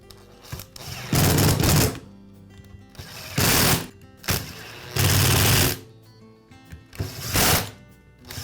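Screws re-secured into a DeWalt angle grinder housing with a powered driver, heard as four or five loud, close whirring bursts of about a second each, separated by quieter pauses and small clicks.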